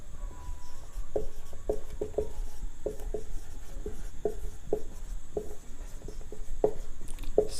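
Chalk or marker writing lines on a classroom board during a Class 12 chemistry lesson, heard as a string of short, regular taps and scrapes close by over a low steady hum, with no talk.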